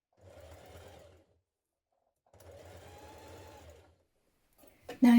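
Sewing machine stitching along the edge of a summer blouse from the inside, two steady whirring bursts with a pause between, close and moderate in volume, ending with a brief sharp clatter.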